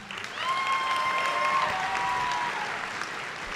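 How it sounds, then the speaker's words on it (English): High school graduates and guests burst into applause at a graduation ceremony, the clapping swelling after a moment and holding steady, with a few cheers and whistles rising above it. "Let's give yourselves a round of applause."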